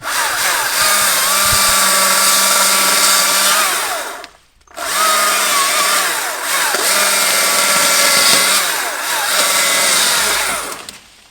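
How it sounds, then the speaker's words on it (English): A Stihl MSA 220C battery chainsaw runs at high speed with a steady whine, cutting off briefly and starting again, close and loud with no voices. "That's the little Stihl 220C. Beautiful little saw."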